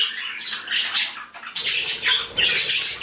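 A pet bird with a baked pine cone shredding toy lets out a run of harsh, raspy squawks in bursts, loud and close, with brief gaps between calls.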